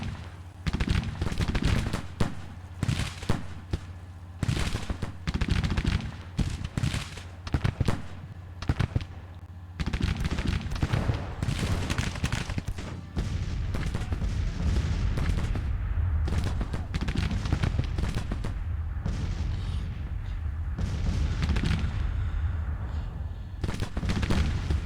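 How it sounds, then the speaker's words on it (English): Heavy artillery fires counter-battery salvos in the Grand Tactician video game. Sharp booms come in dense, irregular bursts and keep going for the whole stretch, some overlapping into rolling barrages, with a low rumble beneath and faint talk at moments. "But we're doing some heavy counter battery fire, which is fantastic"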